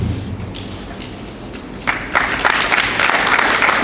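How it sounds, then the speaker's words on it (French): Audience applause for a speaker at a university semi-final contest, a burst of clapping that rises after a quieter start and carries on steadily and fairly loud. "Sempara, bravo, merci, applaudissez pour lui."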